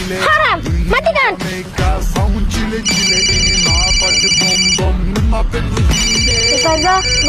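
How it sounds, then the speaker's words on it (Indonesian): A mobile phone ringtone plays a loud repeating electronic melody with high beeping tones, mixed with and following lively talking voices. "boleh nggak aku angkat telepon"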